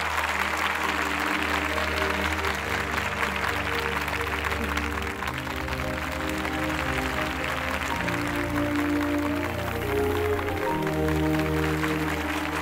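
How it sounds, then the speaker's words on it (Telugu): Students applaud a college topper with steady, dense clapping throughout, sustained without a break under background music. "ఖదీర్కి ఇంకా గట్టిగా చప్పట్లు కొట్టి ఉత్సాహపరచండి విద్యార్థులారా"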